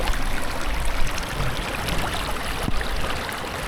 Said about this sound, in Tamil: தண்ணி எப்படி போகுது, சல சல சல சல சல சல சலன்னு.